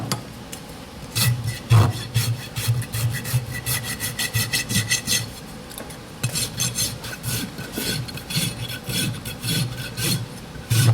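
A rasp scrapes and rounds off the edge of a goat's hind hoof during trimming, with rhythmic rough strokes in bursts, close and fairly loud, with no one talking.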